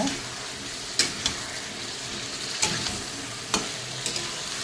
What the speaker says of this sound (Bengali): বেগুন কয়টা দিয়ে আমি ভালো করে কষিয়ে নেব